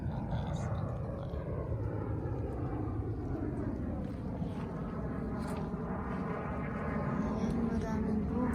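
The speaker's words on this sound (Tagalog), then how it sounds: "Ang aeroplano, maingay." Propeller airplane passing overhead in a backyard, a steady loud drone with slowly sliding tones that swells and fades across the whole stretch, heard outdoors over faint background activity.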